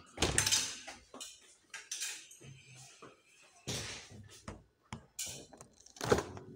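Dishes and containers clatter and knock as food is put into a home freezer, several loud handling clunks and rattles spread across the span with quiet gaps between.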